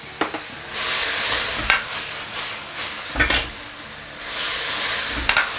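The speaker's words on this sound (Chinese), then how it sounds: "最后我们下入这个芦笋， 出锅前勾入少许的水淀粉。" Asparagus sizzles loudly in a hot wok, with repeated bursts of stirring and scraping from a spatula giving an uneven rhythm over the steady frying hiss, close and alone.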